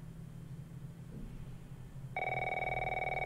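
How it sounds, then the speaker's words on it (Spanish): A telephone rings in The Last of Us video game, a steady electronic ringtone that starts partway through and continues loud over a low background hum. "Ojo, están llamando al teléfono."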